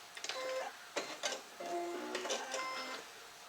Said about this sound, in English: Nice simple little bit of sewing this is.